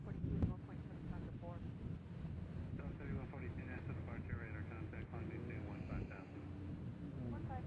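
A CRJ regional jet at Nashville International Airport gives a continuous, fairly distant engine roar mixed with wind rumble on the microphone, with a voice faintly audible underneath.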